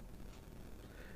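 A smartphone voice assistant gives a short, bright electronic beep at the very end, loud and close, after a faint low room hum.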